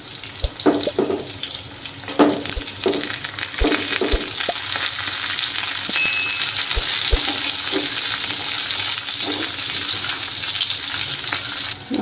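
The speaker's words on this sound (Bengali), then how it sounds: "আর একটু সময় এভাবে ভাজবো আমি বেগুনগুলোকে" Eggplant slices fry in a pan with a loud, continuous sizzle, broken by a few clicks and knocks of a utensil near the start.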